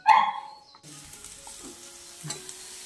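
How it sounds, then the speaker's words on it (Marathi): Gowel vadi roll frying in oil on a hot griddle, a steady soft sizzle that follows a short, sharp yelp-like burst at the start, with faint scrapes near the end. "ह्याच्या तव्यावरती आम्ही आता फ्राय करतोय एक रोल"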